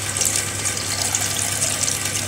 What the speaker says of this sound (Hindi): थोड़ा सा पानी ऐड करेंगे ताकि मटर हमारी अच्छे से सॉफ्ट हो जाए।